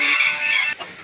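Bantam chickens with their chicks let out a loud, close, drawn-out cluck that breaks off abruptly near the end, followed by a softer, fainter cluck.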